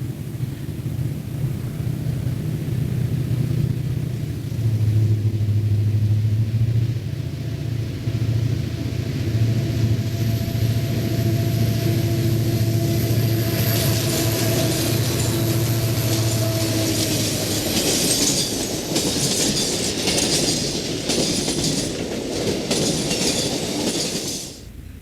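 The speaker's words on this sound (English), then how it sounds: "A Milwaukee Freight Extra follows in the wake of Number 9." A Milwaukee Road freight extra passes: a loud, steady rumble of locomotive and rolling freight cars with a low drone, and metallic clatter and squeal building as the cars roll by.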